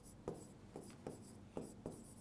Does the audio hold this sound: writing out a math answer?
yes